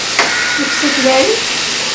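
Paneer gravy with sesame seeds, cashew and sweet corn being mixed in a pan, a loud hissing sizzle with one quick scrape near the start and a faint voice-like murmur in the middle.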